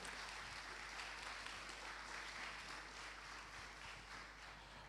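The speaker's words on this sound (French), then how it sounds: "On peut les applaudir pour les remercier d'être là." Steady applause from a crowd at the launch of the Agile Lille 2022 event, a continuous faint wash of many hands clapping that fades slightly toward the end.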